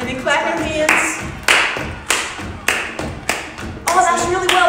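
Children stomp their feet and clap their hands in a group music activity, loud close thuds and claps landing in a loose repeating pattern, with voices and tonal sounds mixed in between.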